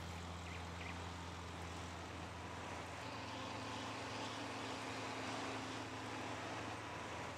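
A tractor engine in the Farming Simulator video game drones steadily and continuously, with a low, even tonal hum that holds at a fairly constant level throughout and no voices over it.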